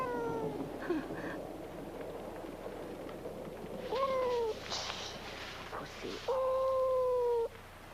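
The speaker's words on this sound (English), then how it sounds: "Pussycat! You mustn't sit on Arnie. He's allergic to kitties." A cat meows indoors: a short call near the start, a louder one midway, then a long, drawn-out meow near the end. Each is close and clear over a quiet room background, with no talking.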